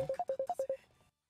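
A phone rings during a Dynasty Warriors 6 game stream, a quick run of about eight bright electronic beeps in a rapid melodic pattern, close and clear, then cutting off into silence.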